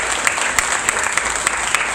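A church congregation claps briskly and steadily, a dense wash of many hands with regular sharper beats standing out, loud and close, with no talking over it.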